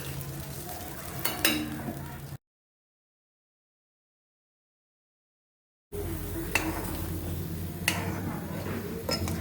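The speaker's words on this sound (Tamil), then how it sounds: "ரவையை போட்டு அப்படியே கிண்டுங்க." Rava semolina being stirred in a pan while cooking kesari, with soft scraping and sizzling, a few sharper spoon-against-pan clicks, and a silent gap in the middle.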